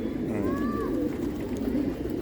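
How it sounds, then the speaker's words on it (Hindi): Pigeons coo low and soft in a pigeon-keeping loft in Jafrabad, New Delhi, over a steady murmuring background, with a faint thin whistle-like call rising briefly partway through. "माशाल्लाह तैयार है कबूतर"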